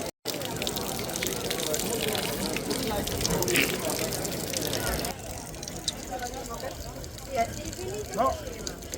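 Water runs from a well spout in Sweden, a steady close rushing gush that turns quieter and thinner partway through, with a voice heard alongside.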